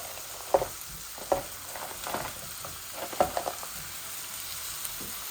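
Pointed gourd (potol) frying in a pan with chilies and shrimp, a soft steady sizzle carrying several sharper clinks and stirring knocks at close range, with no talking.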